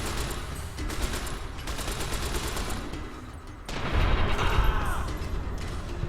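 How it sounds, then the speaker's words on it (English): Rapid bursts from a 10mm submachine gun in Fallout: New Vegas, steady automatic fire mixed with game combat noise, growing louder and denser toward the end. "10mm submachine gun, this is why I brought you along!"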